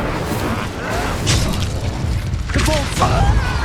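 A fire spell cast during combat with goblin loyalists in the Hogwarts Legacy video game, heard as booming, crackling bursts layered over continuous battle noise and a voiced shout.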